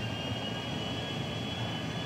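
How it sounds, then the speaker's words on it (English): An airplane's jet engine in a video game gives a steady, unbroken drone with a low rumble and a high whine, holding an even level throughout with no talk. "you just get into the airplane"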